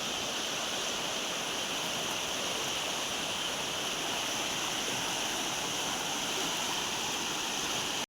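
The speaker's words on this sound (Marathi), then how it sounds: "तुडुंबपणे पाणी वाहते." A swollen river in spate during monsoon rain in the Konkan region, roaring with a steady, dense rush of water that holds constant and loud throughout, with no voices.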